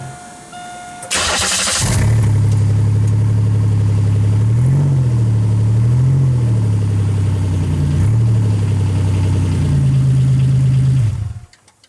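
A 1995 Pontiac Grand Am fires up with open headers and no muffler or tailpipe, then settles into a loud, rough idle with a couple of brief rises in revs before shutting off.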